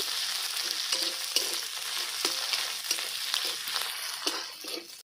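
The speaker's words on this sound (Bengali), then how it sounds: "বন্ধুরা অর্ধেক চামচ আদা বাটা দিয়ে দিলাম সব মশলার সঙ্গে আমি কষিয়ে নেব" Ginger paste and spices sizzle in hot oil in a pan while being cooked down for a potato and pea curry, a continuous close frying hiss broken by repeated soft scrapes of stirring.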